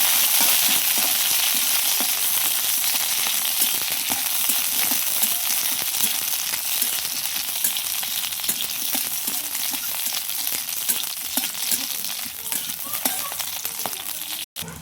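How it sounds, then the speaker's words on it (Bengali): Chili stirred with taki fish in a hot frying pan gives a continuous loud sizzle, crackling throughout, with scraping stirs of the pan. "মরিচটিও দিয়ে দিলাম সাথে ভালো করে নাইরা করে নিন"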